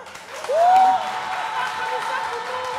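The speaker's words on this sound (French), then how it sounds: "Bon public, par applaudissement, ma chère amie" Applause from a studio audience on a French television game show, a burst of clapping that swells and holds steady, with a voice rising over it near the start.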